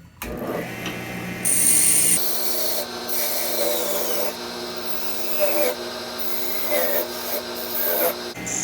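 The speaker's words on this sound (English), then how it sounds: "I'm just sanding through the normal grits, and I've turned the lathe speed way down so we don't burn up that sandpaper." Sandpaper rubbing against a small turned wooden piece spinning on a woodturning lathe at low speed: a steady motor hum beneath a continuous scratchy rasp that shifts slightly as pressure changes, with no talking.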